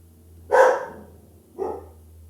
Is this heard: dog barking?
yes